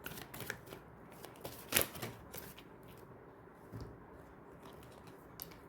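Tarot cards shuffled by hand at close range, with a series of soft papery riffles and flicks in irregular bursts and one sharper snap midway. No one speaks.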